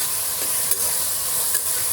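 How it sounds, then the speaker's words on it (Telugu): Onions fry toward golden brown in hot oil for vegetable biryani, a dense continuous sizzle with a couple of faint stirring clicks, no voices. "ఇది కొంచెం ఏం చేద్దామంటే గోల్డెన్ బ్రౌన్గా ఫ్రై చేసుకుందాము."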